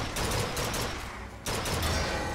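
Rapid bursts of gunfire from a firefight in the video game Bioshock Infinite, loud and dense, a brief lull in the middle before the shooting picks back up.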